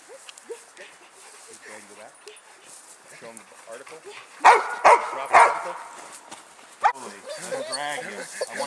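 A scent-tracking dog in training gives a few loud, sharp barks in a quick cluster, then one more, while someone talks over the scene.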